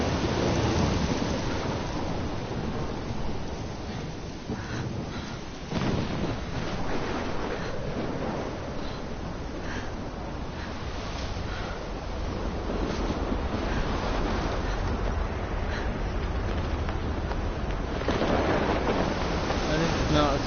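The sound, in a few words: storm with thunder, rain and waves in video game Life is Strange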